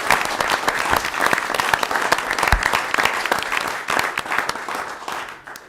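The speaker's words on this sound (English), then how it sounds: "So how about a round of applause for the Mason Middle School team?" Steady audience applause for a Mason Middle School team fills a room at a board of education meeting, with dense clapping that thins slightly toward the end.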